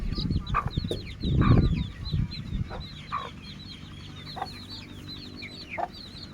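Young Aseel chicks cluck and chirp in a small pen, a steady run of high, quick peeps carrying on throughout with a few louder, fuller clucks nearby and low rustling underneath.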